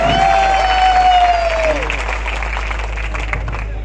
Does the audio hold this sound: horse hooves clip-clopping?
no